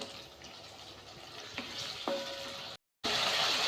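Black chickpea masala cooking in a pan, with faint bubbling and sizzling under a steady hiss, a few soft clinks, and a brief moment of silence near the end.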